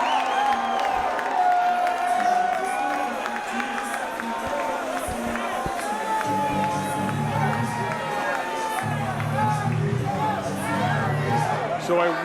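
A New York crowd at a Friday Night Fights boxing bout, Paul Banasiak vs. Ariel Abreu, roars with sustained cheering, whoops and shouts that swell and surge, with voices rising through the din.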